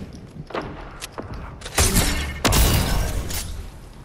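Gunshots in Fortnite: several sharp bursts, with a few faint early cracks followed by two loud, dense blasts near the middle, each ringing out before fading.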